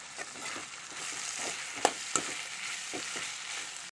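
Marinated duck meat fries on a low flame in a pan, a soft, even sizzle with faint stirring taps and a couple of sharper clinks.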